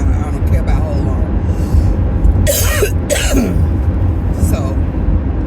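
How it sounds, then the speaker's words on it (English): A person coughs and clears their throat in a few sharp, close bursts, with faint vehicle rumble and background noise around them. "excuse me, I still got this cough"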